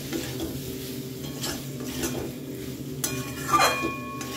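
Small new potatoes for dum aloo being stirred in a pan, a steady scraping and clinking of the spoon against metal over a soft sizzle, with a sharper clatter near the end.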